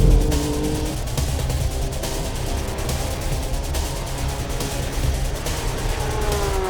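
2022 Porsche 911 GT3 on track at Phillip Island, a steady engine drone and road roar heard from inside, continuous and moderately loud throughout.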